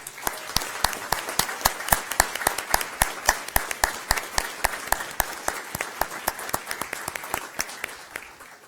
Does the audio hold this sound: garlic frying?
no